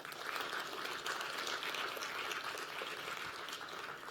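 An awards ceremony audience gives sustained, dense applause, an even hiss of many clapping hands that holds steady for about four seconds without talk.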